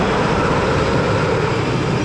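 A wooden Vekoma roller coaster with Gravity Group trains at Tusenfryd in Norway thunders past in a loud, constant, rumbling roar with no break and no voices.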